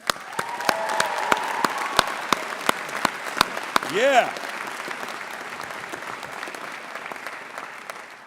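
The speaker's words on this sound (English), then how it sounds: "So let's have a huge round of applause for families and friends." A large graduation-ceremony audience at Birmingham City University breaks into long, steady applause, a dense wash of hand claps with a brief cheer and a few voices in the crowd, continuing at an even level throughout.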